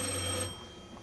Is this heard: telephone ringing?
yes